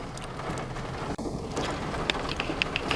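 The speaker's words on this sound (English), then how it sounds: "I don't know why it's raining." Light rain falls steadily outdoors as a soft, continuous hiss, with a few sharper drip taps near the end and no voices.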